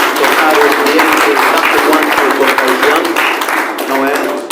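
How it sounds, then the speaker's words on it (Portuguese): A church congregation applauds in a dense, steady wash of clapping for about four and a half seconds, with voices mingled in the crowd noise. "Ok, salvas de palmas, por favor."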